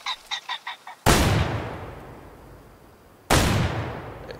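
Two loud shotgun blasts ring out in the Way of the Hunter hunting game, each a sharp crack followed by a long rolling decay, spaced about two seconds apart, preceded by a short series of faint honking bird calls.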